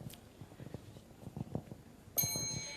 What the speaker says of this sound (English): Ismiza, once the bell rings, you may start your presentation